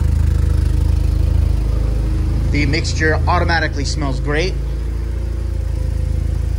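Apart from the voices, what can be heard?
Porsche 944 engine idling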